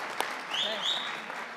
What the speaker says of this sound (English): can I get a big round of applause, a big cheer, a big thank you to the Valaris production team